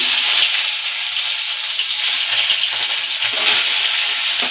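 Grated onion frying in hot oil in a pan, a steady loud sizzle that carries through without a break, with faint stirring clatter underneath.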